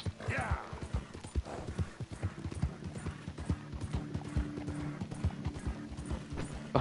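Horse hooves clatter in a rapid clip-clop through a zombie shooter game, steady and fairly quiet under ongoing low-level game sounds, with a brief whinny-like tone near the start.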